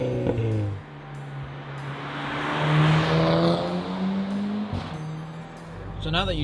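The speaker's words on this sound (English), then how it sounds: "it sounds absolutely amazing, not just on the inside but also from the outside" An MTM-tuned VW Golf 6R heard from outside, its engine and exhaust droning and rising as the car moves past nearby, with speech over parts of it.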